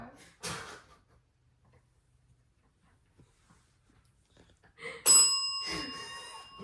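A bell inside a firehouse rings once, sharp and bright, near the end, its metallic tone lingering and slowly fading after a mostly quiet stretch broken by a few soft thumps and rustles.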